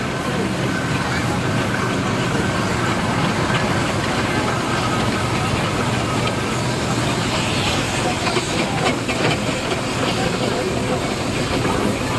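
A steam engine at a steam fair runs with a constant loud hiss and dense mechanical rumble, heard from close on board as a steady unbroken wash of noise with no clear pauses.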